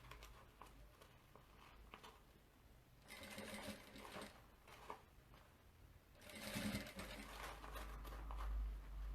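A home sewing machine stitches all the way around a small Easter fabric bag, running in two loud bursts, each a steady close whirring hum, separated by a quieter stretch of light handling.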